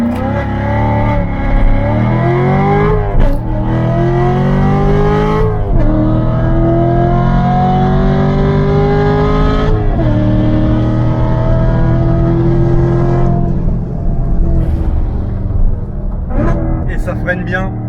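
Loud V8 engine of a Corvette C7 Stingray revving hard through repeated gear changes, pitch climbing and dropping with each shift, close and dominant throughout.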